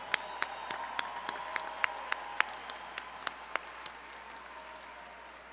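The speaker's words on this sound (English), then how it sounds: "Let's give all our doctoral degree award recipients another round of applause." A commencement crowd at a university ceremony gives a round of applause for doctoral degree recipients, a sparse scattering of distinct, echoing claps over a dense soft wash of clapping that gradually thins out.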